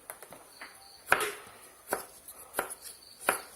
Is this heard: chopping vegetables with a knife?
yes